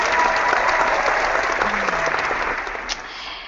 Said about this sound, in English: I think you deserve an applause because I have the app already open.